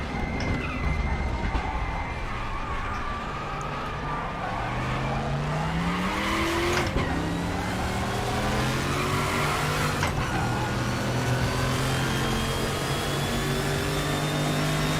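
Group C and Group 5 race cars at the Norisring in a racing game roar through a long pass, engine pitch rising and falling as tires squeal under pulsed cadence braking, loud and close throughout.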